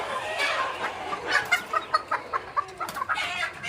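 Sonali and Kadaknath chickens cluck on a poultry farm in a steady run of short, evenly spaced clucks over a busy background of other birds, with no talking.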